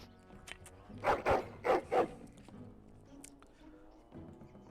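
A dog in the fantasy role-playing game Dragon Age: Origins barks four times in a quick, fairly loud burst, then a couple of fainter yips follow over a quiet game background with no talk.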